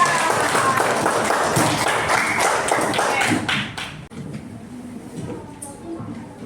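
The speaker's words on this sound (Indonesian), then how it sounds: "Tepuk tangan untuk kita." A classroom of students claps together in a dense, steady burst that fills the first few seconds, then thins into scattered claps and a murmur of voices as it tapers off.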